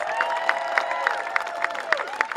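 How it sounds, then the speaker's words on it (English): Crowd applause and cheering at an outdoor Labor Day picnic for Congressman Bobby Scott, steady dense clapping with sharp accents throughout, a few voices mixed in. "Let's give Bobby Scott a big round of applause"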